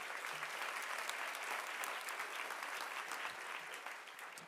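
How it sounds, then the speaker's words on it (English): Steady, dense audience applause at an award ceremony honouring Adele, holding evenly loud for the whole stretch with no break and no voices. "give her another round of applause"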